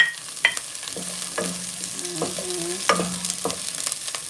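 Lemongrass and ginger fry and stir in a pan as squash is cooked for lunch, giving a soft steady sizzle with a few scraping stir strokes and clinks of a utensil against the pan, close by, with no talking.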